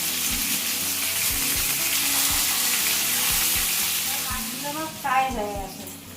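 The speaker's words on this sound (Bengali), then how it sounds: "উল্টি চটি করে ভালোভাবে মাছগুলোকে সব ভেজে নেব" Pomfret fish fry in oil in a home-style Bengali kitchen with a continuous close sizzle and scattered light clacks, while someone talks briefly near the end.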